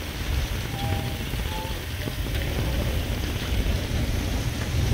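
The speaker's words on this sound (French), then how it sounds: "Je sais pas si vous entendez la pluie. Et le vent et la pluie." Steady broadband hiss of rain with a low gusting rumble of wind on the Almería coast in Spain, continuous and fairly close, growing slightly louder toward the end.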